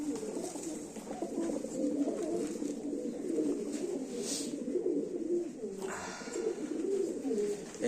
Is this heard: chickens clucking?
no